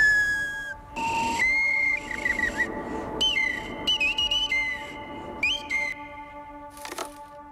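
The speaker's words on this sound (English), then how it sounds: "The sound comes from the bone flute, made by Ni Yue Hui from an animal shank." Ancient-style bone flute carved from an animal shank, playing clear, breathy sustained whistle-like notes in a slow phrase with short pauses, alone and fairly close.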